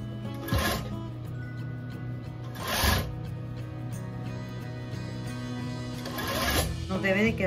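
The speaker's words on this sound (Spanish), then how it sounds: "vamos a coser todo alrededor" Sewing machine stitching around the waistband edge of a pleated skirt, with steady mechanical whirring running throughout and three louder bursts of stitching, under a constant low electrical hum.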